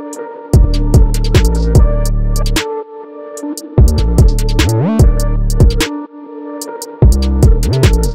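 A UK and NYC style drill beat made in FL Studio pounds out booming sliding 808 bass notes under crisp rapid hi-hats, cutting out briefly between loud repeating phrases, with no vocals.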